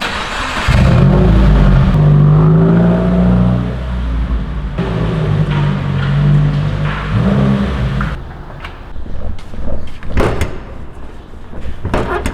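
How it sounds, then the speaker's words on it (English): A 2016 Subaru WRX starts and is driven a short way, its engine revving and idling loudly up close, followed by a door slamming and a few sharp clunks and knocks as the car settles. "First, let me move my car because the lighting in here,"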